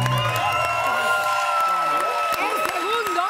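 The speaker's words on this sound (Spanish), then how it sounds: "quiero un aplauso para ella porque es tremenda persona" A television studio audience cheers and whoops for a guest, a loud, sustained swell of crowd voices and shouts with some applause mixed in, carrying on throughout.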